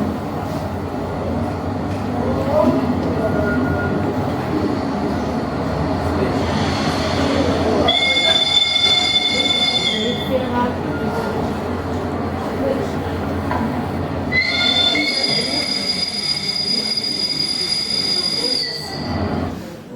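An express train pulls into a station platform, its steady rumble filling the scene while high metallic wheel squeals rise twice, loud and close.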